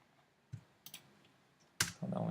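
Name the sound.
computer keyboard typing and pressing enter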